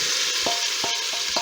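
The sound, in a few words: shrimp sautéing in Pampered Chef Quick Cooker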